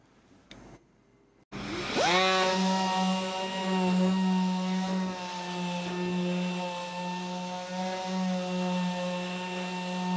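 Power sander running steadily on a composite panel with a P800 disc, a loud sustained whine with a harmonic hum after a brief quiet start, with no talk.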